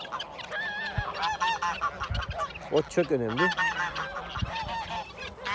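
Geese kept in a farmyard honk repeatedly close by, with loud nasal calls rising and falling, while someone speaks briefly over them.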